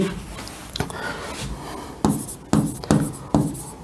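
Handwriting on a board or paper: soft scratchy pen strokes early, then several sharper, louder strokes in quick bursts, close and without voices.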